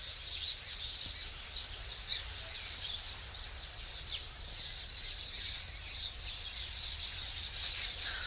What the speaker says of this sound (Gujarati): પક્ષીઓનું કલરવ આવે છે કદાચ તમને સંભળાતું હોય તો